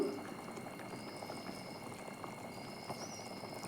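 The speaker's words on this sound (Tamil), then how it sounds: "கொதிக்கட்டும்" Thick egg thokku sauce bubbles and simmers steadily in a pan, with soft popping and a low background hum, no voices.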